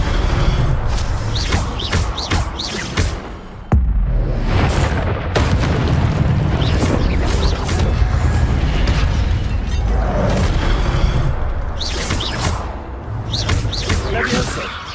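Incendio fire spell blasts in the Hogwarts Legacy video game, loud booming bursts repeating through dense combat noise with spell cries and game effects, several sharp impacts around four and twelve seconds.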